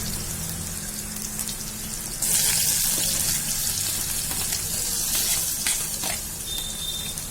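Chopped green chilies, onions and tomatoes sizzle in hot oil in a pan for macaroni pasta, a steady crackling hiss that swells louder partway through and keeps going without talk.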